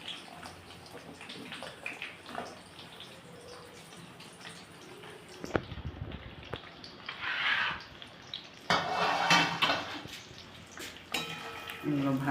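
Chopped onions and ginger fry in a pan for restaurant-style chilli chicken. Close, intermittent bursts of sizzling and a clunk of the pan are heard, with some quiet talk in between.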